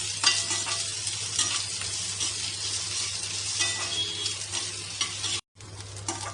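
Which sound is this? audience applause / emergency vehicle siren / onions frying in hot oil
onions frying in hot oil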